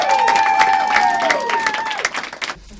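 Audience applause for a performer at a musical lecture, dense clapping mixed with a few cheers and a sustained tonal voice or instrument line, then stopping abruptly near the end.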